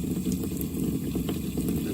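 Water runs steadily from the cold water line of a camping trailer being dewinterized, a continuous close gushing flow with no voices.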